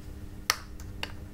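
Wire cutters snipping wire for chain mail in a quiet workshop, giving a couple of sharp close clicks, the first crisp and louder, the next softer, against low background hiss.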